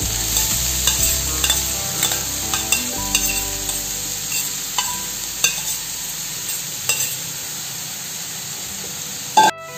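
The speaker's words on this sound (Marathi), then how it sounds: "आपण आता याच्यामध्ये गाजराचा किस घालू" Steady sizzling of grated carrot sautéing in a wok for halwa, with repeated scraping and stirring clicks throughout and a sharper knock near the end.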